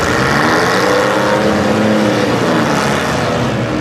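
Several loud six-cylinder demolition derby car engines in Muskingum County, Ohio roar together continuously, a dense rumbling drone with no pauses, close and overwhelming.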